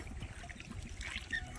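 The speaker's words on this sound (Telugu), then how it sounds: "జలాభిషేకం చేస్తున్నారు మా వాళ్ళు" Water trickles and pours over a small stone Shiva lingam during a ritual bathing at a hillside shrine, a soft uneven splashing stream with faint background murmur.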